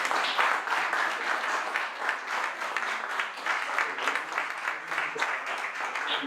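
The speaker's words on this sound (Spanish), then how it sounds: "Pido también un aplauso al coordinador del seminario, Mario Soria" An audience claps steadily at the closing session of a seminar, honouring the coordinator; a dense, even patter of many hands fills the room throughout, with a few murmured voices underneath.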